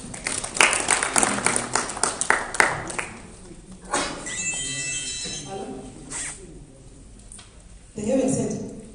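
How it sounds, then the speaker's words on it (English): Audience at a 2018 Zimbabwe Internet Governance Forum discussion session claps for a group, a burst of irregular applause with loud claps early on that fades into people talking and murmuring. "let's just give a round of applause to Group 2"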